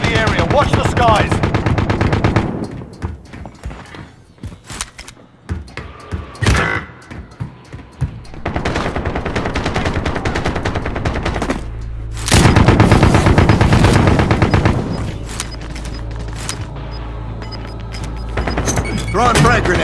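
Dense, loud gunfire from a Call of Duty Warzone match, with automatic bursts, rapid machine-gun volleys and heavy booms in clustered waves, broken by short lulls.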